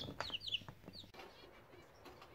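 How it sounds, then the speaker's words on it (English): Six young chicks cluck and cheep in a brooder box as they are moved to a larger one, with a few high chirps and soft clucks close by in the first second, then quieter rustling. "here's a little update on those 6 chicks."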